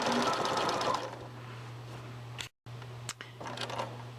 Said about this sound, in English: we're going to sew all the way to the next corner